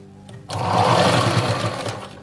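An electric sewing machine stitching a blouse piece, starting after a brief pause and running as a steady, close, loud whir for about two seconds, alone without talk.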